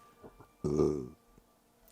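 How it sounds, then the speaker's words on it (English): A single short, throaty burp rises suddenly and stops within about half a second, close and fairly quiet, with faint clicks before and after. "I'm gonna burp 1 second"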